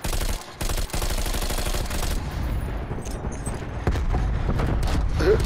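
Bullfrog SMG gunfire in Black Ops Cold War: loud, rapid bursts of automatic fire broken by brief pauses, then dense continuous shooting mixed with other battle noise.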